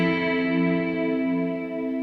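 A major seventh chord on guitar, strummed from the fifth string down to the first, rings out with a shimmering chorus-like effect and sustains evenly at moderate volume with no voices.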